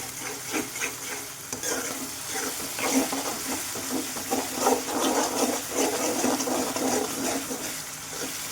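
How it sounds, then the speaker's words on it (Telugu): Chicken gravy curry with turmeric and curry leaves is stirred in a pan, making steady scraping and sizzling sounds that run for several seconds without any talk. "దీని అంతటిని బాగా మిక్స్ చేసుకుందాం."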